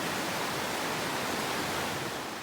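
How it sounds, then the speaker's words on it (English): Lightning Creek in the North Cascades near the Deer Lick campground, a mountain creek rushing beneath a new footbridge, gives a steady, loud, broadband hiss of flowing water with no break and no voices. "Very nice creek."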